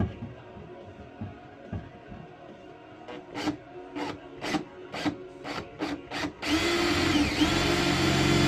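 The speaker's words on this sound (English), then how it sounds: "Now you're going to want to drill." A drill whirs in a series of short rhythmic bursts, then runs continuously in a louder, sustained grind as it bites into metal while making an O2 sensor bung.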